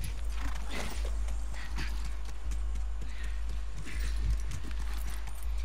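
A horse clip-clops along at a steady trot in The Last of Us, leaving a university grounds, its hooves rapid and fairly close over a constant low rumble, with faint background voices and occasional snorts.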